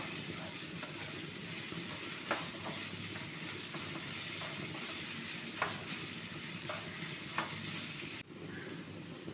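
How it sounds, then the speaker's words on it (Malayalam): Chopped onion, ginger and green chilies fry in hot oil in a pan for chattipathiri, a broad steady sizzle with a hiss. Soft stirring taps come through now and then, and the frying carries on without talk. "ഇഞ്ചി ചെറുതാക്കി വെച്ചതും പച്ചമുളകും ഇട്ട് കൊടുക്കുക. എന്നിട്ട് പച്ചമണം മാറുന്നത് വരെ ഒന്ന് ഇളക്കി കൊടുക്കുക."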